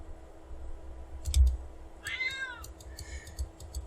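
A kitten gives a short, high meow indoors at a computer desk, preceded by a few soft clicks and set against a steady low hum.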